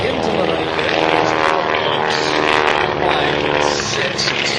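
A vintage Stearman PT-17 biplane's engine and propeller drone loud and steady during an aerobatic airshow routine, with a continuous rough, throbbing roar.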